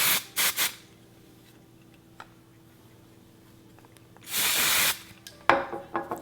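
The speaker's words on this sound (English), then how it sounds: "I'm just gonna lift this up and literally just spray a couple sprays underneath" Several short hissing sprays from an aerosol can of dry texture spray sprayed onto hair, a quick cluster at first, then a longer spray and another burst after a quiet pause.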